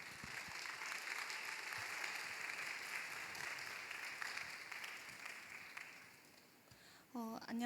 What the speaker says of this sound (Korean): 우리 홍유선, 박종진 커플을 축하의 박수로 맞이해 주시기 바랍니다